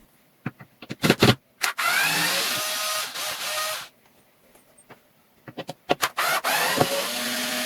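A power drill whirring in several bursts while drilling holes to mount a bedroom shelf, starting and stopping with short clicks and quiet pauses between runs, close by.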